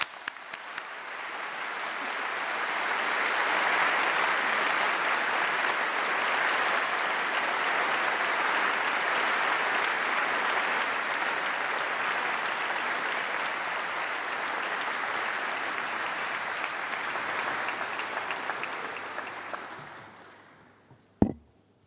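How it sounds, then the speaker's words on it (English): A large crowd at a graduation ceremony applauds for about twenty seconds, a full, sustained roar of clapping that stops abruptly at the end. "everyone deserves another massive round of applause"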